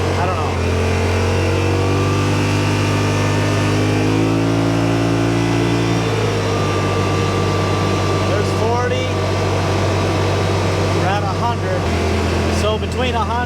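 Steady, loud engine drone from a Yamaha Rmax side-by-side cruising at about 40 mph, a constant low hum with shifting tonal whine and no speech.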